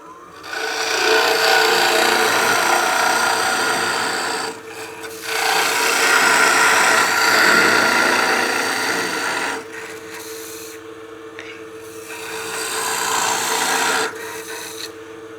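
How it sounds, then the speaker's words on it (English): A woodturning scraper cuts wood on a lathe while turning an artifact pot, giving a loud, steady scraping rasp in three long passes with short pauses between them, and no talking. "and then we'll go to our scraper"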